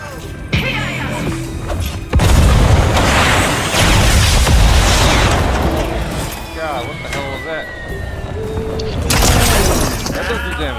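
Rocket blasts in Fortnite: loud crashing booms with shattering debris, several hits bursting in over a few seconds, then a busy rumbling tail of game noise, with a player talking over it.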